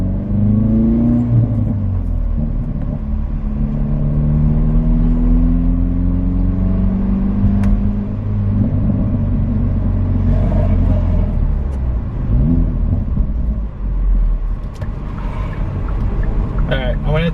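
A Hyundai Veloster N in N mode, fitted with a Boomba rear motor mount, rumbles loudly at close range as its engine idles and revs, the deep drone rising and falling with noticeable vibration.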